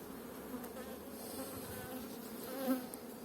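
A colony of honeybees hums steadily in an opened hive in April, a thick, close buzzing that swells slightly near the end and carries on alone without talk.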